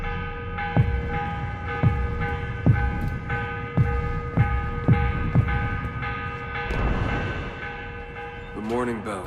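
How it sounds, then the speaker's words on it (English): A church bell in Assassin's Creed Revelations rings for the morning, with evenly spaced strikes over a sustained metallic hum that fades toward the end as a voice begins. "The morning bell. God, I hated that. Ringing 5 days a week just before dawn."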